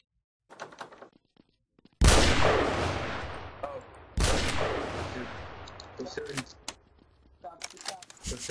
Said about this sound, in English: who's shooting out there?